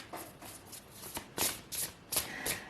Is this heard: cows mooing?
no